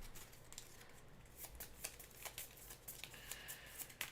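Playing cards are shuffled into a deck during a Marvel Champions card game, a quiet run of soft riffling flicks and taps with a few sharper snaps near the end, no voices.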